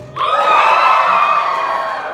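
A stand-up comedy crowd bursts into a loud, sustained cheer of whoops and shouts, rising abruptly and holding for a couple of seconds before easing slightly.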